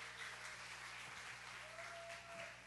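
Congregation applauding at a family revival service as a woman preacher comes forward, a steady wash of clapping heard from across the hall, with a faint held tone drifting through partway.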